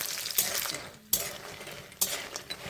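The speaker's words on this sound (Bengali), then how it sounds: "প্রথমে বড়িটা তেলে দিয়ে দেবে, দিয়ে বড়িগুলো ভালো করে ভেজে নেবে।" Sun-dried lentil dumplings (bori) fry in oil in a pan with a soft, quiet sizzle. They are stirred with a utensil that gives several sharp scrapes and clinks against the pan, and no one speaks.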